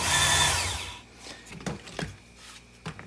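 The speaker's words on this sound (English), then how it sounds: "I want to try this Ken Onion little sander doohickey thing here" A Work Sharp Ken Onion knife and tool sharpener sander runs with a loud, steady whir for about a second, then cuts off, leaving a few faint knocks and handling clicks.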